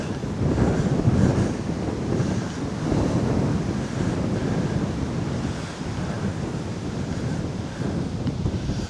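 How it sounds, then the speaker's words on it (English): Strong wind buffeting outdoors beside the River Ancholme at Bishopbridge, a continuous loud low roar battering the microphone in uneven gusts, with no talking. "I think the wind's getting worse."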